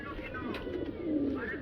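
A pigeon from a breeder's loft gives a short, low cooing call close by, while someone talks over it.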